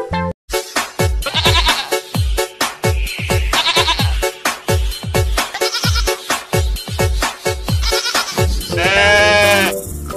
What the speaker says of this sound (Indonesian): lihat ini, ada kambing teman-teman